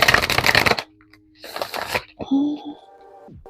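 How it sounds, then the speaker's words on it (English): Tarot cards are riffled and shuffled in quick bursts by hand, a crisp flurry of card edges followed by a pause and another shorter shuffle and a few sliding, tapping sounds. "just pulling out all my cards before I journal"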